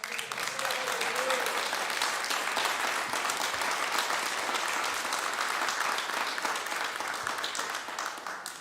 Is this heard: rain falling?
no